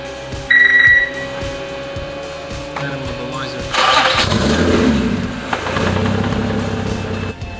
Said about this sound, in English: now we need to start the car